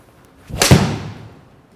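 A golf iron strikes a ball in a single crisp, solid impact, loud and close, followed by a short fading decay, with no other sound.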